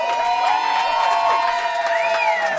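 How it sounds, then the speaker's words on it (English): A comedy club audience cheers and whoops in a dense, continuous roar, with applause woven through it and a few high shouts rising above the crowd. "save your last biggest round of applause"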